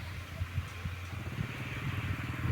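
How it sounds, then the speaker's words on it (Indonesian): A blue Iseki tractor rotary tilling a sugarcane field gives a steady, close mid-pitched engine chug with rhythmic clattering pulses that carries on throughout. "menuju ke sini itu traktor kita, itu traktor Iseki itu"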